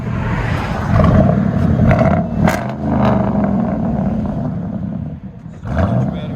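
A Chevy Silverado with a 5.3L V8 and straight-piped true dual exhaust ending in 5-inch tips roars loud and close, its deep rumble rising and falling through several revs with no talking.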